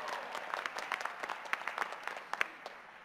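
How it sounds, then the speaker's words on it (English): Graduates at a Purdue University Northwest fall commencement ceremony receive applause, a faint, distant, steady patter of many hands clapping in a large hall, with no talk over it. "That's right, round of applause."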